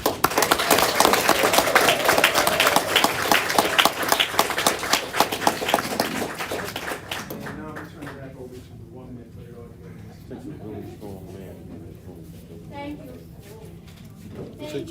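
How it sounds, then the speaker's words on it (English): Audience claps for the women at a live comedy-style show, a dense burst of applause for about seven seconds that fades out, leaving quieter room sounds with voices underneath. "Can we give one more round of applause for all of the women?"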